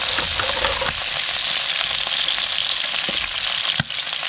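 Whiting fish frying in a pan, a loud, steady sizzle and crackle running throughout with small pops and a brief clatter near the end.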